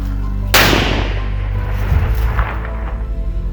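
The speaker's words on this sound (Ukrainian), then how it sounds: "будемо його знищувати накладним зарядом на місці" A single sharp, loud blast from a controlled detonation of a submunition with a placed charge goes off suddenly, followed by a long rumbling decay and some fainter thumps against steady background noise.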